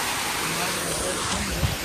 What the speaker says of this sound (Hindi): वाटरफॉल है ये